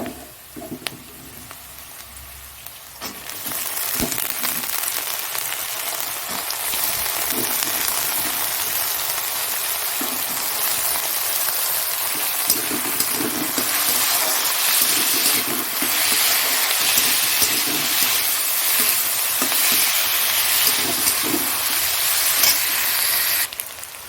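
Potatoes tipped into a pan of frying onions set off a sudden burst of loud, close sizzling that settles into a steady, hissing fry with occasional clinks.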